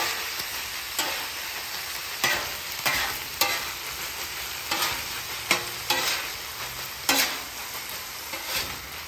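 Tomato paste thinned with a squirt of water sizzles steadily in a hot pan while a utensil works it over, sending repeated scraping stirs through the constant frying hiss, close and clear with no talking.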